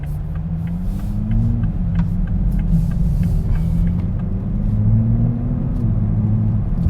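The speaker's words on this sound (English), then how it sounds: "this car excels at cruising." A 2021 Toyota Supra engine hums steadily at low pitch while cruising smoothly through a neighborhood, with gentle shifts in revs and a constant road rumble throughout.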